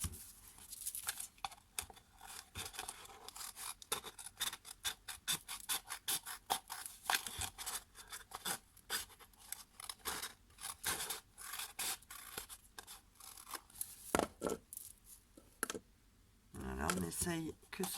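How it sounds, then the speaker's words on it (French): Scissors snip and trim the base of a paper cone for a Christmas table decoration, a steady run of close, sharp clicks and cuts over about eighteen seconds, with short pauses between bursts of cutting. "avec des ciseaux, on vient égaliser la base de notre cône pour que ce soit plat."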